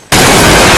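A sudden, very loud explosion in a film bursts in after a moment of quiet and roars on as dense, sustained blast noise filling the rest of the moment.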